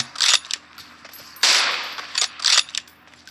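Gunfire in the mobile battle game PUBG Mobile: several sharp, loud shots come in quick bursts, a few single cracks and one longer volley, close and clear, with no talk.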